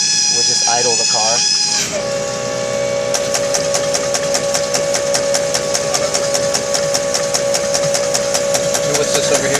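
Fuel injectors for an HPF BMW M3 turbo system clatter on a test bench in idle mode, a steady rapid ticking pulse over a constant mechanical hum after a brief start-up, loud and close.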